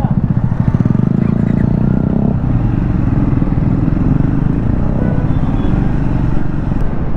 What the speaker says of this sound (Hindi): स्प्लेंडर का एग्जॉस्ट सुन रहे हो आप लोग?